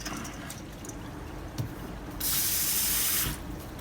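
Soaked basmati rice drained in a kitchen sink, water rushing briefly and steadily for about a second before stopping, close and moderately loud.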